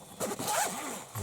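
A zipper on the carry case of a Porsche OBD2 handheld diagnostic tool being pulled open in one quick close-up rasping stroke, lasting about a second.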